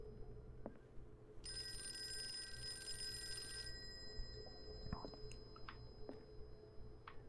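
A telephone bell rings in one continuous metallic trill for about two seconds in a quiet Call of Cthulhu game scene, followed by faint clicks and small handling noises against a low background hum.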